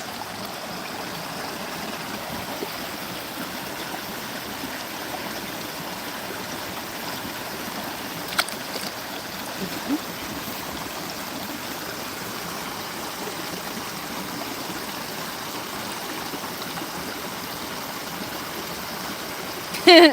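Water flows and trickles softly and continuously along a river, faint and steady, with a few small knocks and a brief louder sound at the very end.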